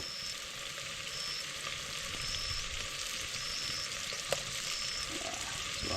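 Onion and garlic sauté in a pan for Filipino mung bean stew (ginisang monggo), giving a steady, even sizzle throughout with one sharp clink near the end and no talking.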